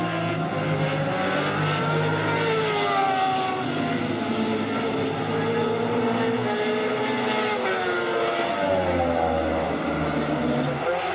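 Endurance racing motorcycles, including a Ducati and a Suzuki, scream past on the Vallelunga circuit during a 2005 championship round, their loud engine whines rising and falling continuously for the whole stretch.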